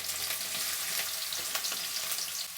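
Green chillies, ginger and garlic frying in a few spoonfuls of oil, a dense steady sizzle with light crackling, close and unbroken.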